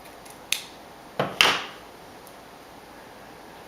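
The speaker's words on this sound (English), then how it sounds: "I'm going to trim upward at a slight angle." Scissors snip through craft ribbon at a slight angle, giving a few quick, crisp cuts close by, the last one slightly longer and sliding, followed by quiet.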